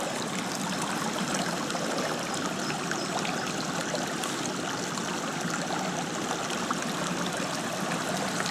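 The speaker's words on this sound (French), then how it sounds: "Voilà, petit ruisseau qui va se jeter" A small stream in the Creuse, France, near Pontarion, trickles and burbles steadily close by, an even rush of flowing water with no voices.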